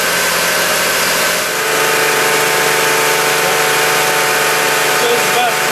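A BMW X5 engine running just under 2,000 RPM, a loud, steady mechanical drone with a faint hum beneath, heard up close.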